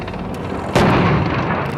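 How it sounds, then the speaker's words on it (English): A heavy tank gun fires during a gunnery battle run at a tank challenge, one loud boom rising out of a continuous rumble of engine and track noise and then rolling on. "This is the battle run, where the gunners fire on the move."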